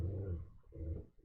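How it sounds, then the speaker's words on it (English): A dog named HD barks at someone approaching a camper in the desert, two muffled, low and throaty barks heard at a short distance with a pause between them. "I think HD's barking at somebody."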